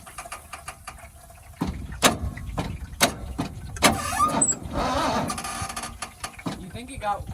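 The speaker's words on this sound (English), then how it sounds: "I can hear the piston in there like squeaking against the wheels." The damaged engine of a 1979 Ford truck strains with irregular mechanical knocks, clicks and squeaking from a piston, rising into a longer grinding run, while people talk nearby.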